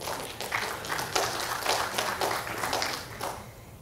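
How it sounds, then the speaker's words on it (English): Applause from a morning audience at a 2020 best practices showcase event, a steady dense patter of hand claps sustained throughout at moderate distance, slightly thinning at the end. "A round of applause for yourselves,"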